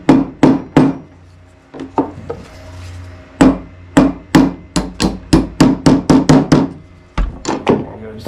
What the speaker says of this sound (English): Just give it a little love tap with the hammer